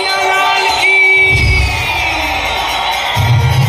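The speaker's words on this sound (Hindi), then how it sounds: "अब जोरदार तालियां इन बच्चों के लिए" An audience at a school annual festival cheers for the children, with loud whoops, yells and a sustained crowd roar swelling throughout.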